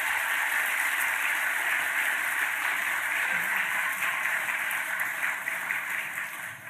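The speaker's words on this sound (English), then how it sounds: "please, a round of applause for them" Audience applause at the DICE Awards ceremony, a steady, dense wash of clapping from a large crowd in a hall, sustained evenly throughout and slowly thinning toward the end, with no talking over it.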